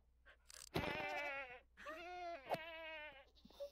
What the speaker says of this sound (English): Oh, the baby goat.